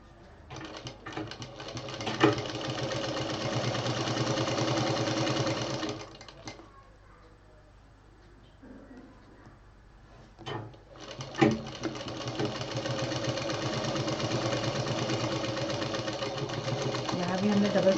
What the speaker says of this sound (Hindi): यहाँ भी हमने डबल सिलाई दे दी है।